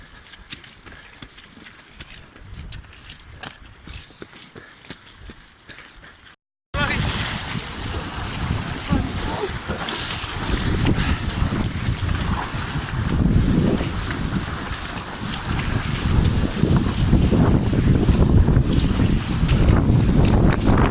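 Strong wind buffets the microphone in a steady roar on a trail run near Seaton, Devon, growing louder after a brief cutout, with faint voices beneath.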